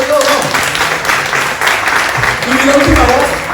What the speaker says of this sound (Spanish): Aplausos a Dios.